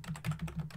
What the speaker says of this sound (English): I'm going to type in interface gig0/1, type in IP address